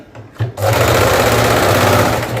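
A sewing machine stitches the lining onto a garment at the neckline. After a couple of faint taps it starts up and runs as a loud, steady, close whir through to the end.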